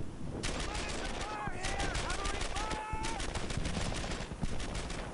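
Rapid bursts of automatic rifle and machine-gun fire crackle through a World War II firefight in Brothers in Arms: Earned in Blood, loud and dense, with radio-style squad shouts heard between and under the shots.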